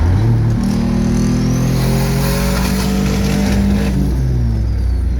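A car accelerating hard in third gear on an open road, with an ECU hooked up. Engine pitch climbs steadily and loudly for several seconds, then drops away near the end, with heavy road and wind roar inside the cabin.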